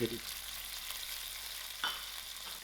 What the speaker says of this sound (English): I will give this a good mix and allow this to fry out slightly.